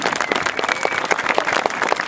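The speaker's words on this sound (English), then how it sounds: "a round of applause for all of you" Audience applause at a youth baseball season opening ceremony, a brief burst of moderately loud, uneven clapping from a modest crowd with no voices over it.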